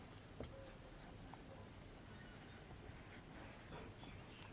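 Marker or chalk writing on a board in a physics lesson on gravity, a steady faint scratching of strokes running throughout, quiet and close, with no talk.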